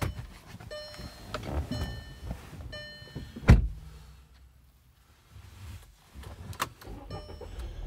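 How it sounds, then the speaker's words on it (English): A 2011 Volkswagen Tiguan SE AWD with a turbo engine starts up with a sharp crank and catch, then settles into a quiet idle, preceded by faint whirs and clicks from inside the car. "Take a listen to the engine."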